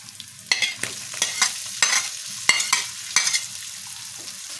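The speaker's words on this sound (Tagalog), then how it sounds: "bali ilalagay na natin yung mga corn kernels." Scrambled egg with tuna and corn kernels frying in a pan, heard close up as a sizzling hiss broken by repeated scraping stirs from a utensil.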